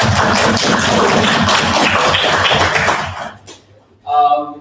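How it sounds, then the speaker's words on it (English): Audience applause at the Malaysian National Schools Debating Championship quarterfinals, a dense, steady clapping crowd that fades out after about three seconds, followed by a brief tonal sound. "Let's give a big round of applause to both teams that made it this far."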